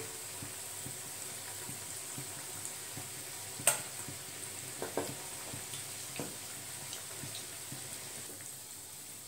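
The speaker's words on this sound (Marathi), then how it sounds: "तळण्यासाठी कढईमध्ये टाकायच्या आहेत" Faint, continuous hiss of green moong dal pakoras frying in oil in a kadhai, broken by a few soft clicks and taps, with no voices.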